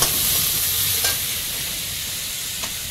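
Ground onion, garlic and ginger paste frying in oil in a wok, giving a steady, close, hissing sizzle with a couple of faint stirring knocks and no talking.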